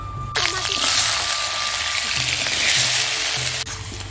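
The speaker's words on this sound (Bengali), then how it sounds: "তো প্রথমে আমি আলুটা ভেজে নিই" Potatoes hit hot oil with a sudden loud sizzle that holds steady, a low hum underneath, then cuts off abruptly near the end.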